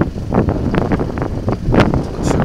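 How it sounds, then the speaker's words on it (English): Strong wind buffets the microphone high up on an exposed hilltop by the Lagg distillery on the Isle of Arran, a loud continuous roar with gusty surges and flapping bursts, with no voices. "Hard to hold the camera still because it's kind of windy here, because it's quite high up, of course."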